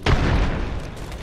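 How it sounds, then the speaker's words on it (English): A grenade detonates in the Apex Legends battle royale shooter, one loud close boom with a sharp onset and a rumbling tail that slowly fades over about a second. "Grenade deployed. Grenade out."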